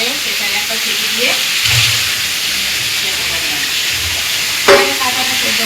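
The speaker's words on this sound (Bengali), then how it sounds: "বিরিয়ানির আলুটা ভাজা হচ্ছে" Potatoes frying in a pan for a mutton biryani, a steady broadband sizzle running throughout with brief stirring clatter near the end and a voice talking faintly underneath.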